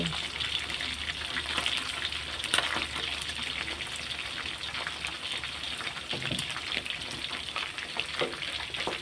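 Flourless chicken drumsticks deep-frying in hot oil make a continuous crackling hiss with scattered pops and bubbling at moderate volume.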